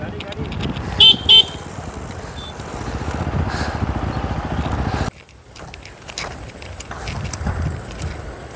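Cars pass along a road in the dusk during an inline skating session. Steady traffic rumble fills the first five seconds, with two short horn toots near the start, then quieter road noise returns.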